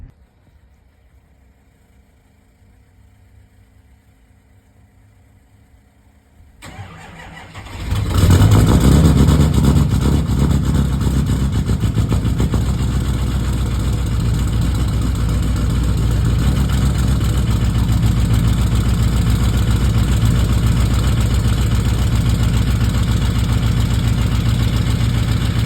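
A Mega Cab diesel truck cranks in extreme cold after several quiet seconds, catches and settles into a loud, steady, rough idle with a deep rumbling clatter that holds for the remaining twenty seconds.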